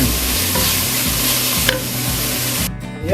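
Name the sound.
sautéing carrots for corn soup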